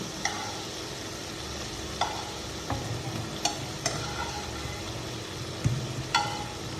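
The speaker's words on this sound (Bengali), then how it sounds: "মশলা কষানো হয়ে গেছে এখন মাছগুলা দিয়ে দিন" Fish pieces cooking in fried masala in a pan for a mango fish curry, giving a steady sizzle with several sharp spatula clicks and scrapes scattered through, close and moderately loud with no talking.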